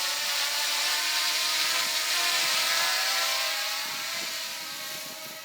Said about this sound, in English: Hold it in your hand, give it a little push, that's the signal, and your drone take off.